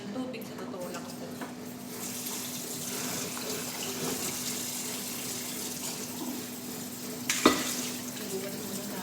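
Tap water runs steadily into a sink while dishes are washed, a continuous close splashing hiss with a brief sharper clatter near the end.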